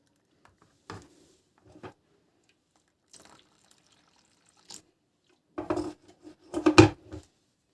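Homemade liquid soap is stirred in a pot, giving a few sparse clinks and soft sloshes that grow into a louder cluster of scraping, knocking strokes near the end, with no talking.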